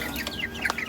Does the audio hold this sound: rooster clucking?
yes